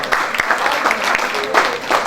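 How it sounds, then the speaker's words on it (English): Audience applause at a STEM conference speech, a dense, steady patter of many hands clapping that carries through the whole moment at moderate loudness, with no voices rising above it. "A round of applause for me, please."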